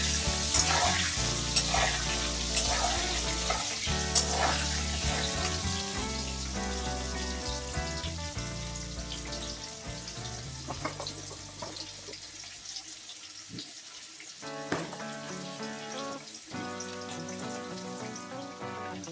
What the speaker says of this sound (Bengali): এবার আলুগুলিকে সুন্দর করে ভেজে নামিয়ে নেব